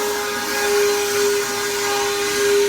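Compressed air rushes steadily through a toilet while the plumbing is being winterized, a loud continuous hiss with a steady whistling tone, close by and with no talking.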